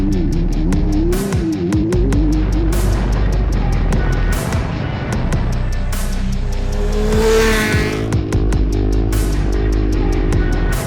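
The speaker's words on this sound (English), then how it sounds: "a 2014 Kawasaki Ninja 300 Special Edition" A 2014 Kawasaki Ninja 300 Special Edition ridden on a storm-littered road, its engine droning loud and steady with rising and falling revs through gear changes, plus rushing wind.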